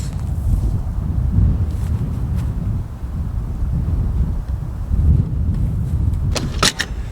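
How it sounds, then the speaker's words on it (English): Wind buffets a microphone on a golf course in a steady low rumble with gusty swells throughout, and a few light clicks and knocks near the end. "because the wind is in my face"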